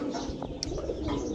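Flying pigeons coo softly at a loft, a few faint coos and chirps over a low, murmuring background, brief and fairly quiet.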